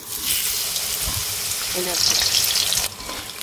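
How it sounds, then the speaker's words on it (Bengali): Potatoes dropped into hot oil with cumin and bay leaf, giving a loud, continuous frying hiss that surges as they go in, with a brief voice underneath. "দেখো জিরে আর তেজপাতা তো হয়ে গেছে, আমি এর মধ্যে দিয়ে দেবো আলু।"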